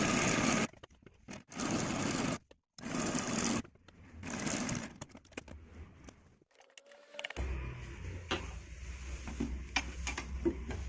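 Sewing machine stitching a half-inch folded hem along the edge of a baby's A-line frock, running in several loud bursts separated by short pauses, then quieter, irregular clicking handling sounds.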